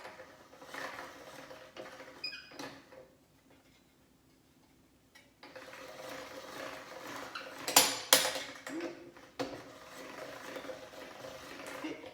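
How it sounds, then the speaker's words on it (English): Egg pasta dough being fed through a hand-cranked pasta machine: light metallic clicking and rattling, a quiet pause partway through, then louder clattering that peaks in a sharp burst before settling into steady ticking. "So I continue to run this through till it gets to about a number 4 on the machine"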